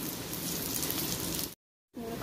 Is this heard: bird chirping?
no